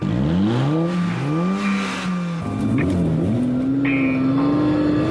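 A Lamborghini Murcielago engine revs high, drops, then roars off in a hard launch-control start with the clutch engaging at 4,000 rpm, the pitch climbing steadily through the gears, loud and close.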